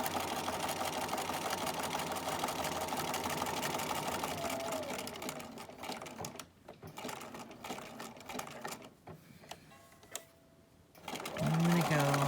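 A sewing machine stitching a mini quilt for a holiday binder cover, running in a steady fast mechanical whir that slows and pauses near the end, with a person talking quietly in the background.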